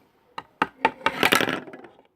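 A mirror in a hair salon falls down, a series of sharp knocks and clattering hard impacts building into a brief rattling crash before settling, close and moderately loud.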